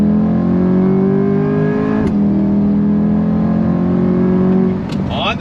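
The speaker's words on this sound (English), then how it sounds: "On throttle, here we go, yeah! That launch control hits hard." A Tremec 8-speed dual-clutch Chevrolet C8 Corvette, a 2023 mid-engine car, launches hard under launch control, its loud engine note climbing steadily with a quick gear change partway and another near the end.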